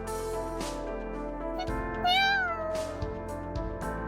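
A cat in the video game Aether Gazer gives a single clear, close meow over soft background music and game sounds.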